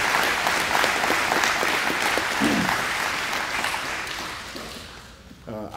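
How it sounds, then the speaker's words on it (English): Audience applause at a Memorial Day observance for General Valenzuela, a thick sustained clapping from a large crowd that gradually fades, with a few voices murmuring underneath and a brief sound at the end. "How about another round of applause for General Valenzuela?"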